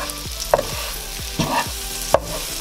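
A patty melt sandwich fries in butter in a pan, giving a soft steady sizzle broken by a few scraping and pressing clicks from a spatula, close and fairly quiet with no talking.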